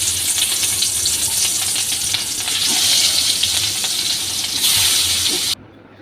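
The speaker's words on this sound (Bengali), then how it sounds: "আর মা এখানে কাতলা মাছগুলো ভেজে নিচ্ছে" Katla fish pieces coated with chili, turmeric, salt and garlic paste sizzle steadily in hot oil, a loud, continuous close-up hiss with faint crackles that cuts off abruptly near the end.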